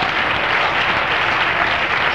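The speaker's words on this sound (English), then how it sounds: "Let's clap our hands again and worship the Lord," Congregation clapping hands during a church worship service at an Apostolic preaching meeting, a steady dense wash of applause filling the whole stretch at even loudness.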